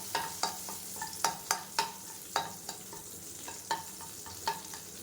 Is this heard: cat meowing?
no